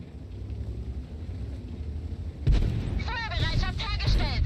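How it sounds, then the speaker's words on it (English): A tank in World of Tanks takes an enemy shell: a heavy boom lands over low engine rumble, followed by crackling debris and a game voice calling out under the noise. "So we just took a big hit."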